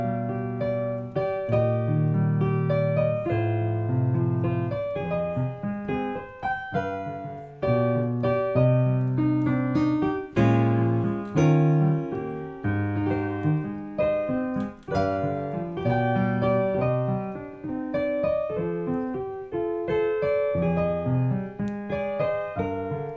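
The B section of a piece from Pokémon plays as a melodic piece with layered sustained notes and shifting chords, moderately quiet and continuous with no talking.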